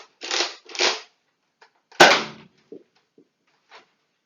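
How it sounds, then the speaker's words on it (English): A Nerf Rival Jupiter foam-ball blaster fires a few sharp, snappy shots close by: two quick pops early, a louder crack a moment later, then small clicks and rattles of the mechanism. "the firing demo for the Nerf Rival Jupiter"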